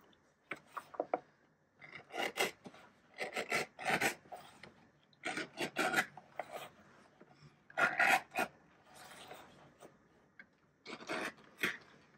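A leather edger scrapes along the edge of a leather spur strap in a series of short, close rasping strokes, each a brief scratchy burst separated by small pauses.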